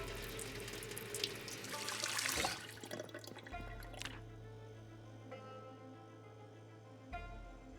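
A sink tap in Project Zomboid runs water into a cooking pot, a near, rushing splash that swells and then settles into a softer steady trickle.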